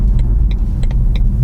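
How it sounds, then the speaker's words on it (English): A BMW i3 electric car is heard from inside while driving, with a steady low rumble of road and wind noise and a few faint high clicks or chirps, with no talk. "the only noise you get is a little hum from the electric motor and a small amount of wind rush"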